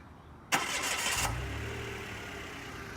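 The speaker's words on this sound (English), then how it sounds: "wanted to demonstrate the remote start for you" A 2017 Mitsubishi Mirage G4 SE engine cranks briefly with a sharp starter whir and catches, settling into a soft, steady idle heard from a short distance.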